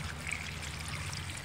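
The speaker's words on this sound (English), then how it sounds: "You can probably hear the gurgling and the bubbling, because it's sucking in oxygen through here" Aquaponics system water gurgling and bubbling as it draws in oxygen where the flow comes out, a steady close trickle and splash with a low hum underneath.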